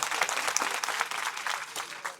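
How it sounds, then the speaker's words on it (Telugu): Applause from a gathered audience at a devotional talk, a dense, steady burst of clapping lasting throughout, fairly close and even in loudness. "దాయకరెడ్డి కూడా చప్పట్లు కొట్టాలి."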